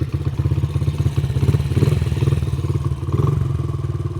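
An old dirt bike engine, just kick-started after sitting for years, runs with a rapid, steady chugging putter close to the microphone, loud throughout.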